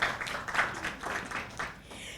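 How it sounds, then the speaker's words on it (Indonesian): An audience gathered in Yogyakarta claps in a brief, moderately loud burst of scattered hand claps that rises at once and thins out over about two seconds. "Tepuk tangan dulu untuk Yogyakarta kita"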